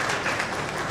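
A hall audience gives a welcoming guest a dense wash of applause, many hands clapping together in a continuous, fairly loud burst.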